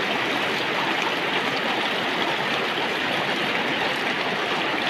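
A Himalayan river stream rushes in a steady, loud, full-bodied wash of splashing water with no pauses and no voices.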